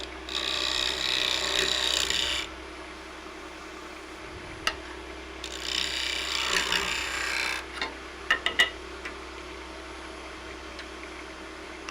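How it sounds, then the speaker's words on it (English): A negative rake scraper scrapes the outside of an ash wood bowl turning on a lathe, giving two long raspy bursts with a steady motor hum beneath and a few sharp ticks between passes. "I'm just going to scrape the outside of the bowl."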